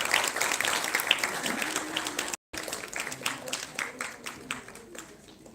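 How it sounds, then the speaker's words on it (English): An audience at a health conclave applauds children with a dense, sustained round of clapping that swells and fades over several seconds, with a brief dropout midway and crowd murmur underneath. "Please welcome a big round of applause for these beautiful kids."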